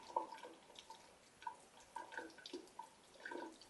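Water drains out of an overturned drinking glass with a can stuffed in its top, producing faint, irregular drips and small splashes scattered across a few seconds in a quiet room.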